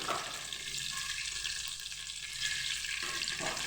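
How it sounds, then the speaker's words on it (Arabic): Chicken wings frying in a pan, a steady close sizzle and crackle that fills the whole stretch without pause. "جناح يتقلاو مع بعض. شوفو هنايا خلوها تتقلى"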